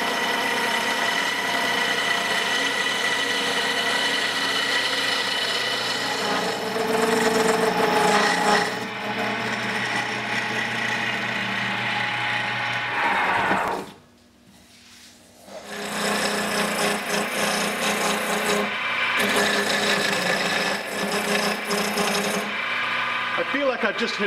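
A wooden wand spins on a lathe under the cutting tool, giving a steady loud rasping, rubbing whir with a motor hum beneath. Near the middle it drops to a brief lull, then the scraping resumes.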